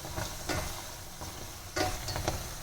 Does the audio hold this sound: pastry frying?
yes